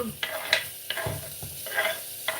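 Onions stir-fried in a pan give a soft sizzle, broken by several sharp scrapes and clacks of a utensil stirring against the pan over about two seconds.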